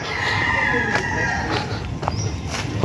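Chickens cluck and a rooster crows at a farm where a keeper raises quality fowl. The crowing is drawn out near the start, with scattered clucks after, and a person talks over the birds.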